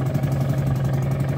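A 1995 Mercury 4 hp two-stroke outboard motor on a Zephyr 404 inflatable boat runs steadily at a close, even idle with a constant buzzing drone and no change in pace.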